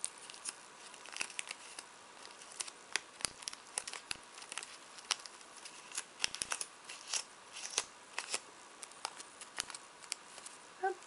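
Embossed vellum paper is crumpled by hand to shape a scrapbooking flower, close crisp crinkles and crackles repeating irregularly throughout.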